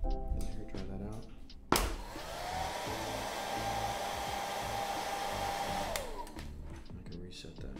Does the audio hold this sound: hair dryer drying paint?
yes